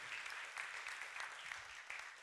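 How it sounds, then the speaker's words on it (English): An audience claps for a panelist at a panel discussion on research policy, with steady, fairly faint applause that has no talk over it. "And she can get some applause too."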